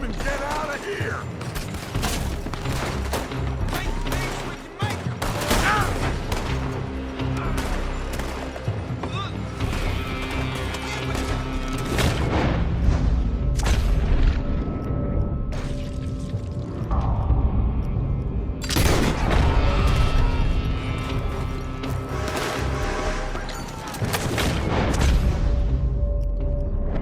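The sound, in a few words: gunfire in a shootout, from the video game Red Dead Redemption 2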